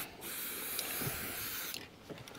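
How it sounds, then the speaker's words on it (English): An aerosol can sprays in one steady hissing burst of about two seconds, close by, with faint clicks at the start and end. "We'll get some blue spray."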